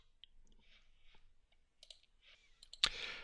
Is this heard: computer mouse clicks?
yes